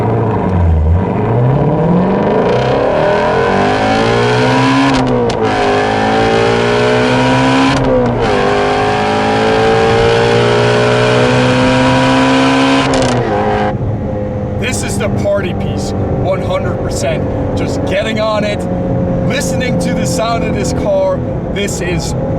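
A loud, close 2017 Shelby GT350 engine revs up high in long rising sweeps, pitch climbing and dropping between gear changes, then falls to a burbling idle with crackles.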